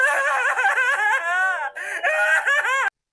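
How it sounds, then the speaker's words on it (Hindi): An old woman in a cartoon cries out in the fields with loud, wavering wails and sobbing moans, broken by a brief pause before the crying resumes and cuts off. "एक रात मास्टर जी को खेतों से किसी के रोने की आवाज आई।"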